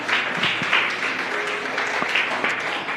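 A church congregation applauds during a sermon, a dense sustained wash of clapping hands from a crowd, steady and moderately loud for the full span without speech.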